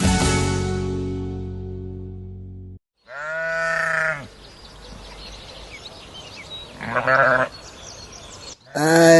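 Sheep bleat in several separate wavering calls on a farm, fairly close and loud, with quiet gaps of outdoor background between them and no talking.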